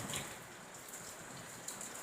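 Heavy rain pours down on Maui, a steady, soft hiss of falling water with scattered drops hitting nearby surfaces, fairly faint and continuous without any talking.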